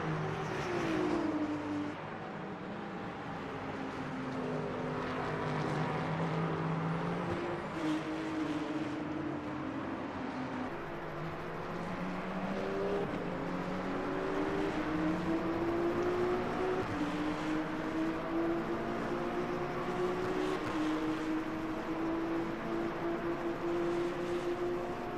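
Race cars, a Mustang and two BMWs, battling around Sebring in the Le Mans Ultimate sim racing game, their engines droning and rising and falling in pitch through gear changes, layered together at steady volume.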